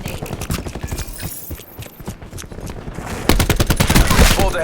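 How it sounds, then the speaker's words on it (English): A cluster grenade bursts in Call of Duty: Black Ops 4 as a rapid string of loud, crackling blasts that thickens and grows louder toward the end, with a voice briefly audible. "Throwing cluster grenade."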